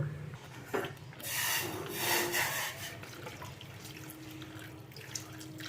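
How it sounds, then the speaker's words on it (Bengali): Hot water pours into a cooking pot of moong dal with milk and pointed gourd, a brief splashing gush lasting about two seconds before settling into a quiet simmer. "এই সময় আমি এর মধ্যে আর একটুখানি গরম জল অ্যাড করে দেব।"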